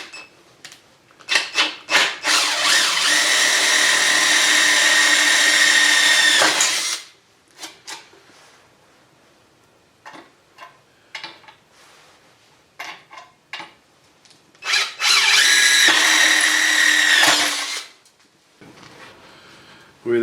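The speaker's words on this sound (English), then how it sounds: "Drill a couple holes and pop rivet on there." A power drill boring holes for pop rivets on a track sled build, two loud whining bursts of several seconds each separated by clicks, taps and handling noises in a workshop.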